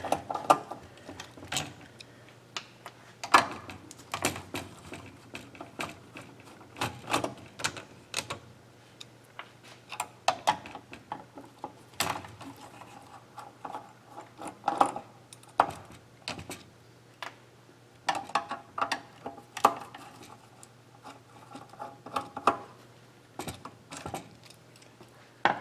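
Screws are taken out of a Yaskawa Servopack SGDB-10ADG servo drive circuit board: close, quiet clicks and ticks of a screwdriver and small parts, coming in irregular bursts with short pauses.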